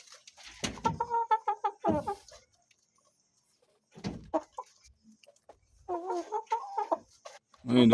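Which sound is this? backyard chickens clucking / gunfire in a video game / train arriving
backyard chickens clucking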